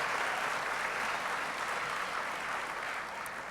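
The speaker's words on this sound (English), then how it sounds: "Please recognize the work they do every day for our students and their commitment to the success of our students with a round of applause." A high school commencement audience applauds the school staff, broad continuous clapping from a large crowd that stays even and then eases slightly toward the end.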